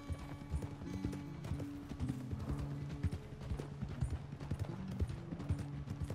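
Hoofbeats of a horse cantering in the video game Red Dead Redemption 2, a steady rapid clip-clop rhythm with faint ambient game sound behind it.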